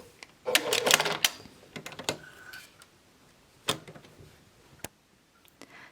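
A sewing machine stitches around the edge of a fabric pouch in short bursts of rapid clatter, a dense run early on and then brief stops and restarts with quiet gaps.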